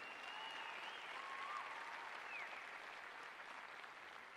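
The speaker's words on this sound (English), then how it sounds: "Can we get another round of applause for the Canucks and for yourselves for being here?" Steady, sustained audience applause fills a hall at a 2014 Canucks mental-health session, even and fairly faint throughout with no voices over it.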